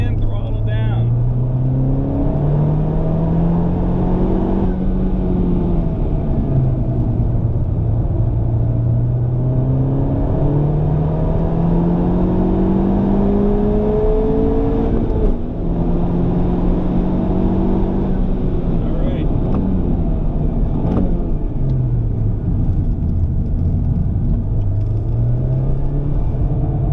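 A Honda Civic Type R on a race track, its engine droning loud and close with a pitch that repeatedly climbs and falls through acceleration and lifts.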